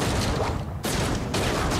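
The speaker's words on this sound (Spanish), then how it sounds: "Le voy a pegar 3-4 tiros." Gunfire in the video game Agents of Mayhem, dense bursts of loud shots that briefly drop out and then resume at full intensity.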